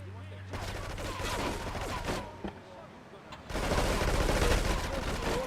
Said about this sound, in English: How are these motherfuckers already shooting at me?